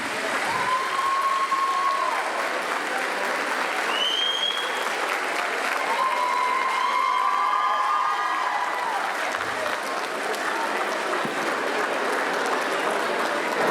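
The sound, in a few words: audience applause at concert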